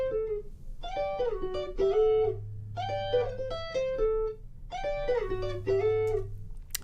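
Clean electric guitar playing plucked, sliding melodic phrases in short repeated bursts, dry and unprocessed, with a faint low bass line underneath.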